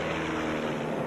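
Several light airplanes fly overhead at night, their propeller engines blending into a steady, continuous drone that holds at an even level throughout.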